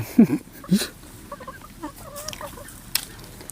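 Chickens cluck nearby at an outdoor cookout where pork sausages wrapped in banana leaves are grilled, with a few loud low clucks followed by softer chattering bird calls and faint background noise.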